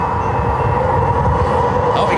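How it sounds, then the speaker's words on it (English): A train rolling out of downtown San Diego, heard as a steady, loud rumble of rail cars with a faint horn-like tone, alongside a voice. "Oh, we got a train."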